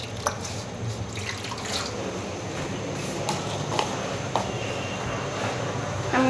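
Cut mangoes washed under a running tap in a kitchen, a steady close splash and trickle of water with scattered drips throughout.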